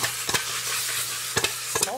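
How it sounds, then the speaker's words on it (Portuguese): A spoon stirs seasoned pork meat sizzling in a pot, giving a few quick scraping strokes against the pan over a constant frying hiss. "Vou só dar uma misturada aqui na carne"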